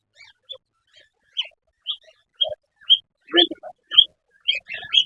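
Scattered short chirps and squeaky calls from cockatiels in a pet shop, irregular and fairly close, with brief gaps of quiet between them.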